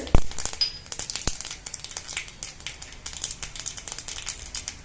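Mustard seeds and urad dal spluttering in hot coconut oil, with sharp pops and crackles over a steady sizzle, close and fairly loud, with no talk.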